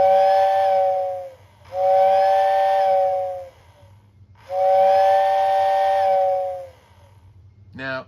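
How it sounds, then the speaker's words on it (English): A Lionel toy train whistling baggage car, powered through the track, blows three long steady hoots with brief gaps between them over a low electrical hum, ending in a short rattly burst. "it also has a whistle built into it, which I will demonstrate for you"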